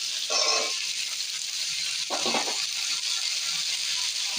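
Stem vegetables, beans and flat beans fry with potatoes in a pan, a soft sizzle broken by two brief bursts as pieces are stirred or added.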